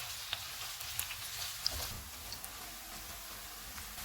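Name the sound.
onion, garlic and ginger frying in oil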